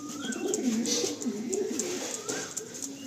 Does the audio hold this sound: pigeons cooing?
yes